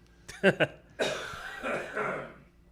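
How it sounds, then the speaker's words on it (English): Two sharp coughs in quick succession, followed by a longer, rougher bout of coughing and throat clearing close to the listener. "Me. Cough."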